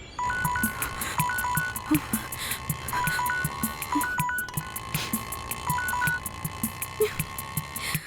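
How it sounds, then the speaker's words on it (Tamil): A repeating mobile phone ringtone trills in short two-tone bursts, cycling steadily over a busy background, fairly close and moderately loud. "லியோ ஏன் ஃபோன் எடுக்கல?"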